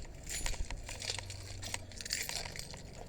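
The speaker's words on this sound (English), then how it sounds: "Let me grab the keys on the Scatty." Car keys jangle and clink continuously as they are grabbed and handled near a Dodge Charger Scat Pack in a garage, bright metallic chinks over low rumble.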